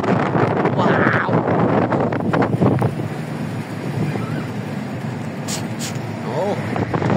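Strong wind buffets the microphone during a roller coaster ride, a loud continuous rushing roar with shouting and excited voices over it at first.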